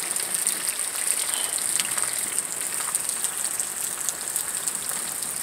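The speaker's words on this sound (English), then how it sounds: "for the sound of rain" Heavy rain pours steadily in a dense, constant hiss, with scattered crackling drops and no voices.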